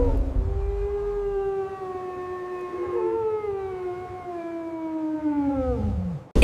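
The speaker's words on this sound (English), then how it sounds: "It's a wolf." A single wolf howls in a long, sustained, slowly falling tone with rich harmonics, holding steady for several seconds before sliding downward at the end, loud and close with no other sounds.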